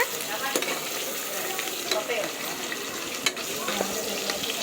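A ladle stirs goat head curry in a hot pan, with steady sizzling and frying under scraping strokes and occasional sharp clinks of metal, close and continuous, without speech.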